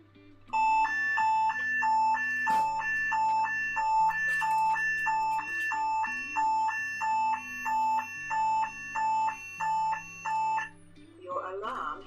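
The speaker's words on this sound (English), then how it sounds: "Your alarm has been activated. I always forget how loud it is until I press it." An emergency help button alarm rings out loud and close, a repeating electronic chime pattern that cycles steadily for about ten seconds over a low hum before stopping.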